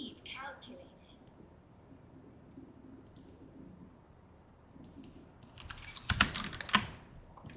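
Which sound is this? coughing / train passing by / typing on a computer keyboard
typing on a computer keyboard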